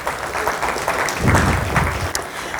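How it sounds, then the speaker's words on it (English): At an HR forum, the audience gives itself a round of applause, a steady wash of clapping from a large room that swells slightly midway, with no voices over it. "Let's give ourselves a round of applause"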